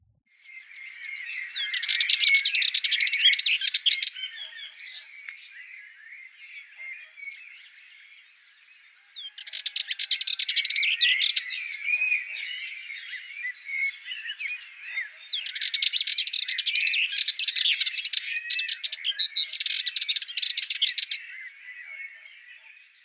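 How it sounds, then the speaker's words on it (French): A Sardinian warbler gives busy, scratchy, rapid chattering calls in three long bouts, close and fairly loud, with other faint bird twitters between them and no voices. "Et la fauvette mélanocéphale."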